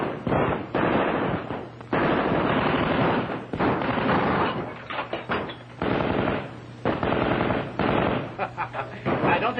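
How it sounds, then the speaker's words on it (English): Machine-gun fire in an old film drama set around a mill, loud close bursts of rapid shots rattling in long runs with short gaps between them. "It's a machine gun."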